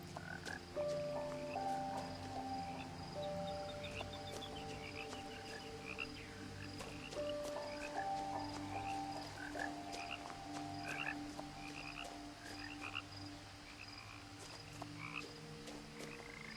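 A chorus of frogs croaks in the game What Remains of Edith Finch, with overlapping repeated croaks and trills from several animals, some nearer and some farther off, plus a faint background of insect chirps and no talking.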